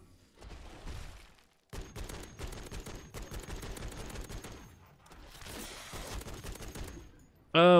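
An M4A1 rifle fires in rapid bursts in the MW3 Zombies video game mode, several sustained volleys broken by short pauses, with a louder sound at the very end.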